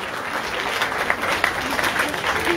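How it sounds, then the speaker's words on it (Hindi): An audience at a Bhagwat katha gathering claps together in a dense, sustained burst of applause that holds steady and swells slightly toward the end, with a faint crowd murmur mixed in. "इनको जोरदार तालियां"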